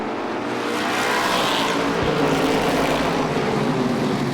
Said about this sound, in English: Tony Rickey from the pole jumps out in front.